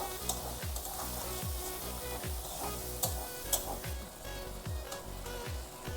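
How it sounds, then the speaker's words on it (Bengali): Dried fenugreek leaves fry in a thick egg curry masala for a Bengali egg and gourd curry, giving a constant close sizzle broken by rhythmic scraping stirs against the pan. "কসুরি মেথি দিয়ে আর একটু কষিয়ে নিচ্ছি।"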